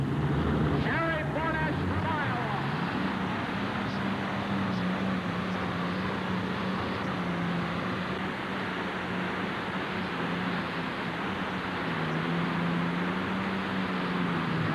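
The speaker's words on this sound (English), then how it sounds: "Screaming at Allison aircraft engine." A 1988 pulling tractor powered by an Allison aircraft engine roars in a sustained, droning howl at a distance, its pitch holding steady with slight dips, while an announcer talks over it.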